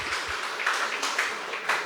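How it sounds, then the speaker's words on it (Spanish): A congregation applauding for Jesus Christ at a religious gathering, a moderate, steady wash of many hands clapping for about two seconds with slight surges. "Fuerte aplausos a Cristo Jesús."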